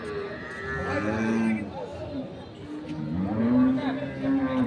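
Cattle moo and low repeatedly at a busy rural livestock market in Dinajpur, with several drawn-out calls rising over a background of crowd chatter and people talking nearby.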